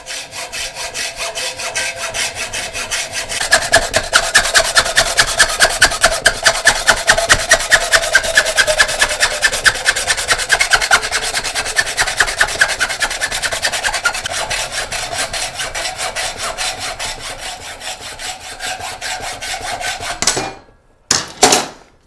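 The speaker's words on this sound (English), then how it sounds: "take a hacksaw and just saw against the edge of the Jubilee clip" Hacksaw cutting metal tubing guided by the edge of a Jubilee clip, a steady rapid rhythm of close, loud rasping back-and-forth strokes that runs for about twenty seconds before stopping, followed by a couple of brief knocks.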